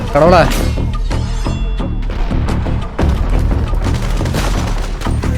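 Dense, loud bursts of gunfire from GTA 5 Online, with rapid thumping shots and booms overlapping almost continuously for several seconds.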